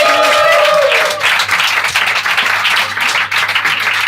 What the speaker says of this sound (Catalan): Un aplaudiment per aquesta actuació tan meravellosa de Kate Winslet!